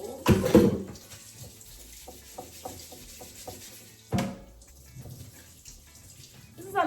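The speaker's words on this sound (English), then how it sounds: "I'm cleaning my vegetables." Tap water runs into a sink as vegetables are rinsed and rubbed by hand, with intermittent splashes and scrubbing bursts at close range.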